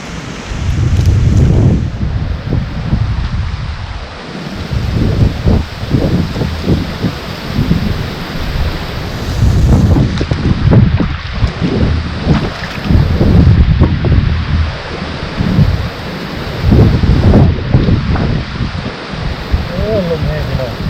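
Strong wind buffets the microphone outdoors in rural northeast Thailand while fish traps baited with rotten fish are being set, a loud, gusting roar that rises and falls throughout.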